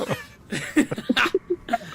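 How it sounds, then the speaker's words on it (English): A sharp, loud cough bursts out near the middle amid a few short throaty vocal sounds, all close to the listener. "can I cough really loud?"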